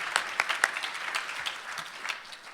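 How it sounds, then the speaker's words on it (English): A short burst of audience applause at a State of the City address, many hands clapping at close range, steady and moderately loud before tapering off. "How about a round of applause for"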